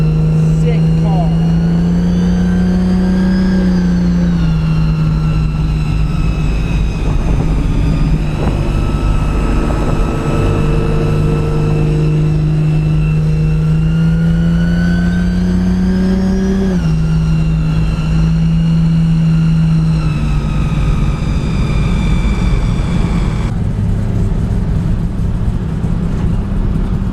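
A 2JZ-engined Toyota Supra with a TH400 transmission and a BorgWarner S366 turbo accelerates hard, its loud engine drone climbing steadily in pitch through long pulls with sharp drops at the shifts, heard from inside the car.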